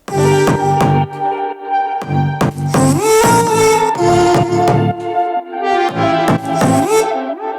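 An electronic track plays alone, a bright synth melody riding over deep bass notes in short chopped phrases with a steady rhythm.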